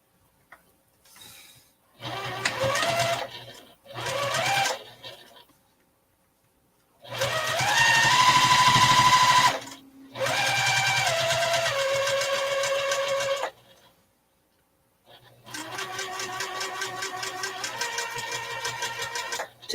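A sewing machine top stitches a zipper pouch in several close runs of rapid needle clatter, each burst lasting one to four seconds with a whining motor pitch that shifts, separated by short pauses of near silence.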